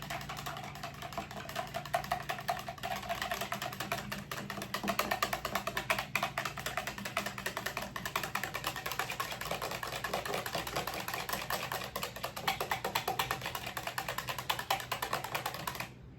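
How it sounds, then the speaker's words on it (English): Ingredients being whisked together in a bowl, a rapid continuous clicking and rattling that holds an even rhythm for about sixteen seconds, close and with no speech. "you're going to whisk that all together"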